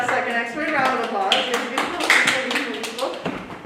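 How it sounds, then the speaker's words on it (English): Scattered clapping from a small audience at an office Valentine's Day event, individual hand claps audible as sharp taps mixed with voices and chatter. "Round of applause."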